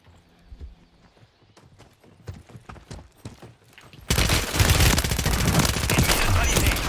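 Gunfire crackles through a video game match, starting as scattered sharp shots over a rhythmic clopping, then swelling after a few seconds into a loud, dense, continuous barrage.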